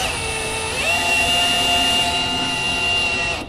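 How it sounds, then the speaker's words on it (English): A power drill whines steadily at high speed, its pitch rising slightly about a second in, then holding loud and close until it stops. "that's the drill on high speed"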